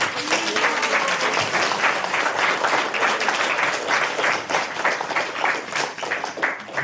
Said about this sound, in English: let's give a clap to the Yamadutas.